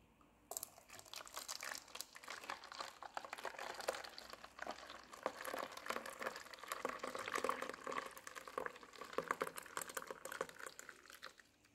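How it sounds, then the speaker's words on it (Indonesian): Brown sugar agar pudding mixture is poured slowly into pudding moulds, making a close, crackly liquid trickle with light clinks that runs steadily for several seconds without talk. "Lalu kemudian kita tuangkan ya adonan agar-agar tadi pelan-pelan"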